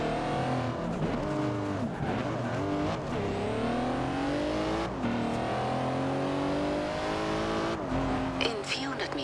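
A car accelerating in the racing game Forza Horizon 2, the engine revving loud and steady through rising gear sweeps with brief tire squeals, continuous and close.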